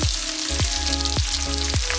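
Garlic and diced onions sauté in a pan for lentil and spinach soup, a loud close hiss with three regular scraping strokes of a spatula about half a second apart.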